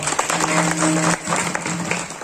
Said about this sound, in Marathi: टाळी वाजवा वा.